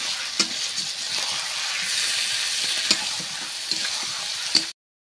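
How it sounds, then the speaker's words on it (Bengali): Meat fries in a hot pan with a loud, continuous sizzle, punctuated by a few sharp stirring clicks, then stops abruptly. "এবার মাংসটা দিয়ে দিচ্ছি।"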